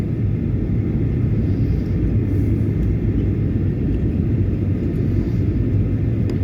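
An airliner landing at Sydney Airport, approaching over Kurnell, makes a loud, steady, deep roar that stays constant throughout with no gaps.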